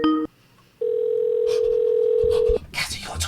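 A telephone line plays a steady dial tone while a phone number is dialed: a brief tone, a short silence, then a long unbroken hum that cuts off into faint clicks and noise.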